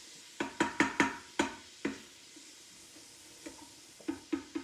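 A spoon stirs garlic sautéing in an Instant Pot, giving a run of close, sharp scrapes and clacks against the pot in two bursts over a soft sizzle, with no talking.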